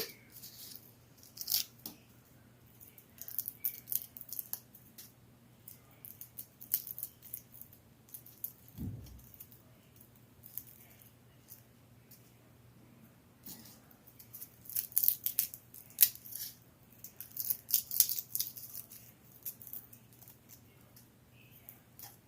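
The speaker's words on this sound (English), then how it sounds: "I'll kind of bend it and flex it to get that skin to crack and break, and I'll be able to kind of peel it off at a section at a time" Papery skin being cracked and peeled by hand off a very small garlic clove, giving faint, scattered crinkly rustles and crackles in quiet bursts with one soft thump midway, close up with no talking.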